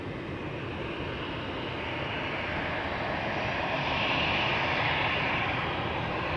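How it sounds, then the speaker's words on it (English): A propeller aircraft flying near Schiphol airport produces a continuous, broad engine roar that holds steady and swells slightly louder partway through, with no voices over it. "Also hearing something with a propeller."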